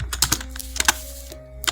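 Fingers type a keyword on a computer keyboard, producing a quick, close run of crisp keystrokes with uneven spacing.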